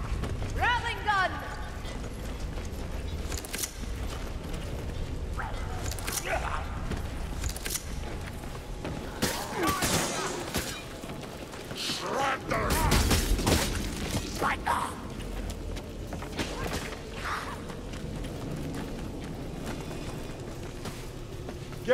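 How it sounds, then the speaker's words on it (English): An engineer's rattling gun fires in Warhammer Vermintide 2, a rapid mechanical clatter of shots with bursts and booms around it, under game voices and battle noise. "Rattling gun!"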